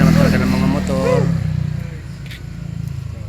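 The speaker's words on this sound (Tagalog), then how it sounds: "Super ingay naman talaga ng mga motor." Noisy motorcycle exhausts rumble at a nighttime checkpoint, a loud low engine drone with a pulsing idle that continues after a person speaks over it at the start.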